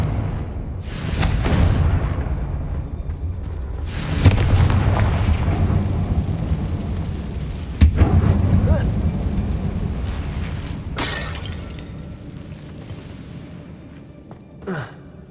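Confringo fire spell blasts in Hogwarts Legacy, heard as several booming explosive bursts with low rumbling tails, spaced a few seconds apart over steady game ambience.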